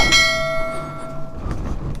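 A single elevator bell chime rings out clearly, its tone sustaining and slowly fading, followed by faint background noise.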